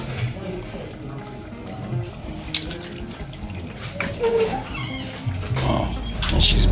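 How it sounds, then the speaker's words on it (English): Dried herrings and shrimps being washed in water in a kitchen, with sloshing, splashing and tap-like running water and small clatters, fairly close and irregular. "So we're washing our dry herrings and shrimps."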